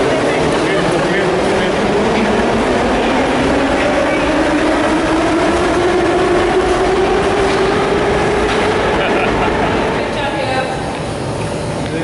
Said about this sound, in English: You have to be quick because every 2 minutes a train comes.